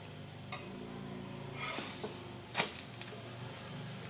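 Green pea paratha roasting in a pan, a faint, soft sizzle with a few light spatula taps and one brief clatter, quiet and close.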